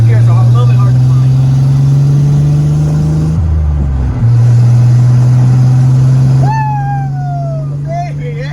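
A Nissan 300ZX drives on a test run after its no-start fault and clutch switch were fixed, its engine a loud steady drone that dips briefly during a gear change, then resumes as voices exclaim near the end.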